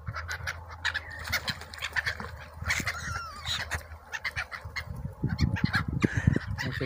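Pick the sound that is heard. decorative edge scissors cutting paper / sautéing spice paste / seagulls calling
seagulls calling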